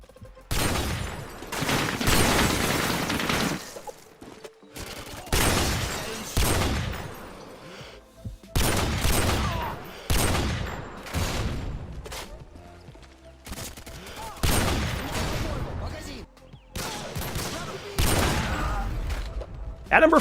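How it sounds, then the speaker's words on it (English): Barrett sniper rifle in Modern Warfare 2 firing repeatedly, each booming shot followed by a long echoing tail, about six loud blasts spaced a few seconds apart. "The Modern Warfare 2 Barrett sounds incredible."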